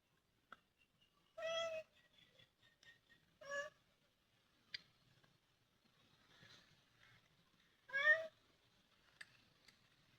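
A cat meows near fish being cleaned, three loud, clear calls spaced a few seconds apart, with faint clinks and scrapes in the quiet between them.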